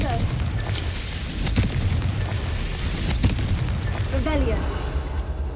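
The Confringo fire spell in Hogwarts Legacy sets off several loud, booming explosions that burst and rumble in close succession over a noisy game soundscape.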